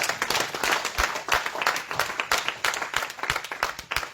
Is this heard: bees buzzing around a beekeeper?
no